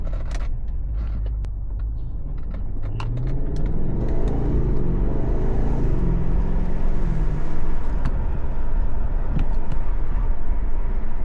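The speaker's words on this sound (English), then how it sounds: "We are in the car for the first drive. So far, no squeaks." BMW G30 M550 car driving on its first test run after a front brake change, a steady low interior rumble of engine and road noise rising slightly in level, with no voices.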